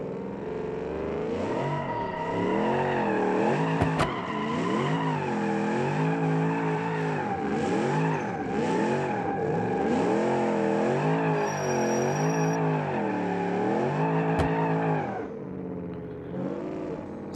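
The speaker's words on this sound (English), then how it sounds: "Those brakes are getting loud." A car in the BeamNG.Drive driving game drifting, with its brakes squealing: a steady loud engine drone carries wavering tire and brake screech throughout, with a couple of sharp clicks, and no talk.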